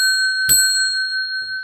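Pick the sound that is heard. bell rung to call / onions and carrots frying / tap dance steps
bell rung to call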